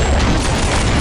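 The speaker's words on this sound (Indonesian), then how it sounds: "Waduh, di bom gua." A bomb goes off in Counter-Strike zombie mode, a loud, dense explosive blast that fills the whole brief moment with broadband roar.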